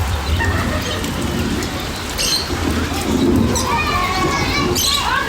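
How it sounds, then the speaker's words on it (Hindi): Artificial rain falls from an installed sprinkler system in Madina, a steady, close hiss of spray and drops that runs throughout, with faint background voices and chatter mixed in. "बारिश जो है सिर्फ यहाँ पे है जहाँ पे इन्होंने सिस्टम लगाया हुआ है"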